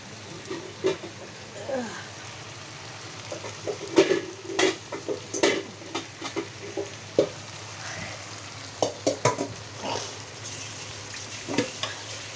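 Fish frying in a pan in a home kitchen, with a low sizzle under repeated scraping and clattering strokes of a spatula against the pan, coming in irregular bursts.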